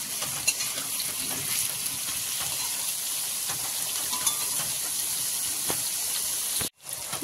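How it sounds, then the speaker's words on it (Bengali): Potatoes and onions fry together in a pan with a loud, steady hiss and crackle of oil, close up, with a few faint utensil clicks and a brief dropout near the end. "দুটোই লাল লাল করে ভাজা হয়ে যাবে।"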